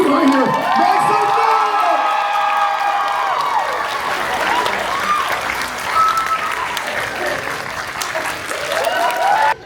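Steady clapping and cheering from a fan convention audience at Smoky Mountain Fan Fest, loud and sustained, with scattered shouts and whoops over the applause until it cuts off abruptly.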